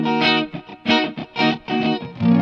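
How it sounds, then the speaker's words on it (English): An electric guitar runs through a Mooer Micro Pitch Box pedal shifted one semitone up, playing a short distorted riff of several rhythmic chord stabs, loud and close with no talk. "And here it is set to one semitone up."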